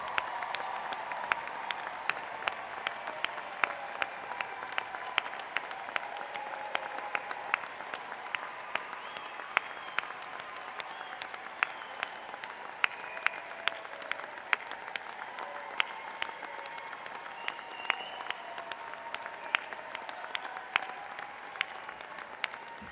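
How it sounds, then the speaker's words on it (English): Audience at the Monmouth University 2019 graduate commencement applauds the graduating class: dense, steady clapping from a large crowd, fairly distant, sustained without a break for over twenty seconds, with no voices. "Please stand and receive our applause"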